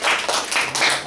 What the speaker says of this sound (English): Let's clap it up for Luca